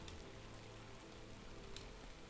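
Steady rain in the video game Skywind, an even dense patter on surfaces with occasional brighter drops, faint and continuous with no voices.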